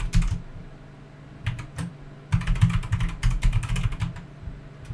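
Keystrokes on a computer keyboard as a new password is entered, arriving in short bursts of quick clicks with brief pauses between, close and clear, with no one talking.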